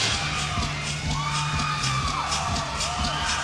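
A crowd in an arena at the 2006 Pac-10 gymnastics championships cheers steadily during a floor routine, with whoops and yells rising over a continuous roar and a pitched tone running underneath.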